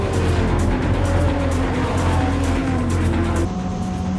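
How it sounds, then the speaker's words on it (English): Field of race cars pulling away at a Club Enduro race start at Silverstone circuit, a loud, steady dense engine roar with tonal drone throughout, easing slightly near the end. "They go out now and we're off and running here at Silverstone with this big field of cars heading towards Abbey for the first time."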